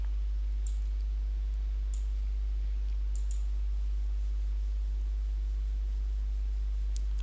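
Soft computer mouse clicks, a few brief faint ticks spread across a quiet stretch over a low steady hum, with no talking.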